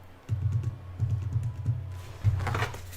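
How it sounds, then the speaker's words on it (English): Someone types hard on a Microsoft Surface keyboard: quick bursts of heavy, close keystrokes with brief pauses between them, heard alone. "It is a Surface keyboard."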